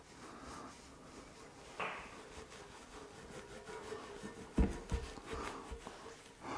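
Hand polishing of a car surface with Angelwax product, soft irregular rubbing and wiping strokes at close range, with a few sharper bumps and scuffs, no speech.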